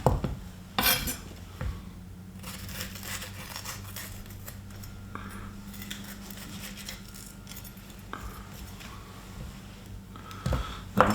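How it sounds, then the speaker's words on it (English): Knife cutting the seeds and core out of a red pepper on a kitchen board during piccalilli preparation, giving close, irregular clicks and scrapes with a few sharper knocks against steady low background hum. "It's a red pepper, so I'm just going to cut the seeds out."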